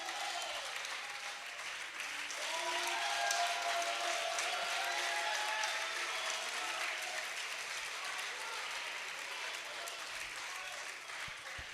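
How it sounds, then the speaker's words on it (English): An audience claps at a valedictory lecture at The Polytechnic, Ibadan, a dense, sustained applause of many hands that stays loud for the whole stretch, rising slightly midway. "Yes, go on and clap."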